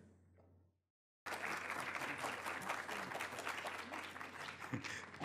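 A brief low murmur, a moment of silence, then a crowd breaks into sustained, dense applause that continues steadily to the end.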